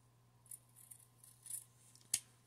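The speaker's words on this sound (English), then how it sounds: "go ahead and cut off the excess, leave about a quarter inch seam allowance" Scissors trim excess fabric from a sewn bowl cozy, leaving a seam allowance; several quiet snips spread unevenly over a couple of seconds, close up against a low steady hum, with one sharper cut near the end.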